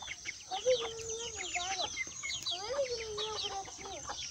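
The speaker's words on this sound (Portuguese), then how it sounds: "Como é que tu vai pegar uma galinha pro Eduardo desse jeito, cara?" Several chickens cluck and squawk close by, a busy overlapping chorus of short calls and longer drawn-out clucks.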